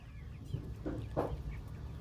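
A few soft, brief clucks from two-month-old Kaveri chickens at a poultry farm, quiet and somewhat distant against a low background hum.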